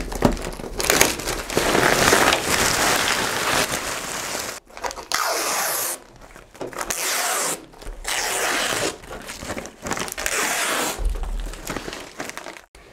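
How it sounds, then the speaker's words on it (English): Vacuum bag, peel ply and other bagging consumables being peeled off a carbon fiber bonnet mold after resin infusion: continuous crinkling, rustling plastic and tearing sounds with short pauses, close and fairly loud. "It's now time to remove all of the bagging consumables from the mold."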